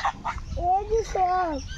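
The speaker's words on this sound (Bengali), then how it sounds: "সবগুলো রাজহাঁস" Domestic geese honk close by in a short burst, two quick calls followed by longer nasal honks, with low background noise.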